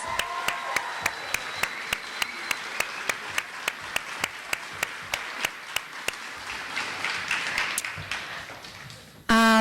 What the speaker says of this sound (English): So if we can give them a big round of applause.